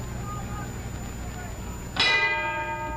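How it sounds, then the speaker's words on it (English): A ringing bell ends a round in a 1955 heavyweight boxing match, Rocky Marciano versus Archie Moore, with one bright metallic strike that sustains and rings over a steady crowd roar. "And there's the bell."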